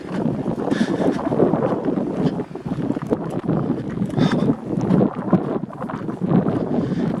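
Wind blowing hard and steadily, with a continuous rushing roar and gusts buffeting the microphone throughout.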